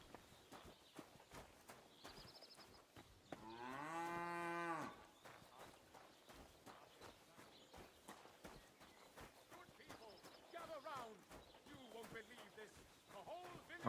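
Cows moo in the Kingdom Come: Deliverance video game. One long, drawn-out moo rises clearly midway and a fainter one follows later, over a steady patter of hooves and footsteps in the outdoor ambience.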